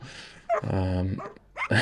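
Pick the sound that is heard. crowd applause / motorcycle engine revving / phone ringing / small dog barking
small dog barking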